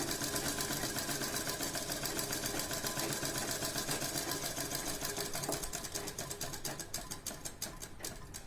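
A sewing machine runs steadily while stitching the neckline of an A-line nighty, a continuous fast mechanical whir that holds at an even level throughout, with the rhythm loosening slightly toward the end.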